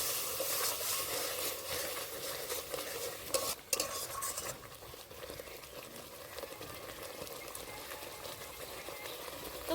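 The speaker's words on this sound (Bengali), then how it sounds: "ধনের গুঁড়ো কাশ্মীরি রেড চিলি পাউডার ভালো করে কষে নেবো" Ground coriander and Kashmiri chili powder are stir-fried in a pan for jackfruit curry, giving a steady close sizzle with continuous scraping and stirring strokes and a brief clink of a utensil midway.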